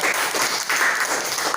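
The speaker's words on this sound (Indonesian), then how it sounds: "Tepuk tangan dulu." A classroom of students bursts into applause, a dense, continuous patter of clapping hands that stays steady and fairly close for the whole short stretch.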